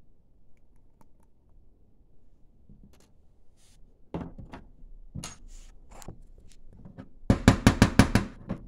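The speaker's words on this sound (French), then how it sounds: "Je fais tomber l'AVB dedans." Already-vaped cannabis from a Dynavap is dropped into a container, with a few light clicks and taps, then a quick rattling burst of small dry clatter near the end, close and fairly quiet.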